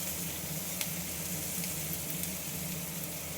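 Onion softening in oil in a pan gives a steady, close sizzling hiss that holds without a break, with no talk over it.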